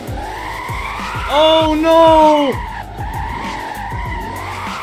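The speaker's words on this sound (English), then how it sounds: "Bro, I gotta hit the sick drifts." A Ford Mustang drifting in a driving game in Southwest Florida, with loud tire squeal rising and falling in a long skid over a rumbling engine, and a voice exclaiming briefly.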